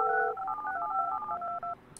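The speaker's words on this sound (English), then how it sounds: "So I just need to extend the phone lines over that side." Telephone keypad tones sound in the Project Highrise building-management game while phone lines are extended: a quick run of dual-tone dialing beeps, steady and clear, lasting under two seconds with no talk over them.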